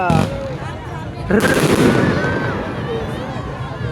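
Firecrackers go off at a New Year celebration in a park: a sharp bang, then a bigger blast about a second later that trails into a long crackling decay, with crowd voices around.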